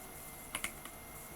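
A few sharp, faint computer keyboard key clicks, ending with a single press of the enter key during a Debian 10 Samba setup in a virtual machine; the clicks are isolated over a quiet background.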